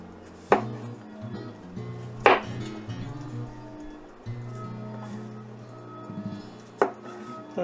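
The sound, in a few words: knife slicing vegetables on a cutting board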